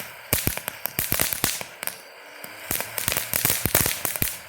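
A Phantom Fireworks Dragon Boy fountain firework crackles and pops in rapid irregular bursts of sharp bangs, loud and close, with a short lull in the middle before the dense popping resumes.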